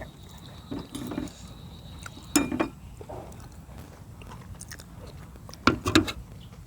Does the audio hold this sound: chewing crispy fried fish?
yes